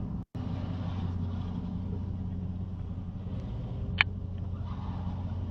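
A RAM truck driven slowly by a technician inside an enclosed service building, a low steady engine rumble with a brief sharp click partway through, moderately faint.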